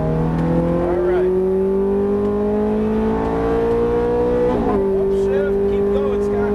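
A high-revving Ferrari F430 engine on a track climbs steadily in pitch under acceleration, with a brief dip around a gear change, while a voice talks over it.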